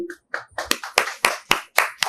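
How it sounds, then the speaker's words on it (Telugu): Schoolchildren clapping together in a rhythmic burst of about eight even claps, close and lively. "అందరూ చప్పట్లు కొట్టండి."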